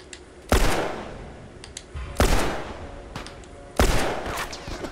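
Three sharp gunshots from The Last of Us game ring out about every second and a half, each loud, close and trailing off into a short echoing decay, with no talk over them.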